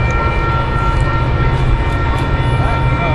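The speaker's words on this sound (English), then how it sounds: "The next inbound Metro train to Chicago is now arriving in your station." An inbound Metro commuter train to Chicago rolls slowly into a station, a loud steady rumble with droning mechanical tones and faint squeals, heard close without break.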